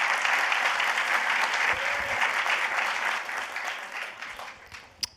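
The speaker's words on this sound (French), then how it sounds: "Je vous invite à applaudir." An audience at an Explorers Talk evening on the energy crisis applauds in a dense burst of clapping that gradually thins and fades over a few seconds, ending with one sharp final clap.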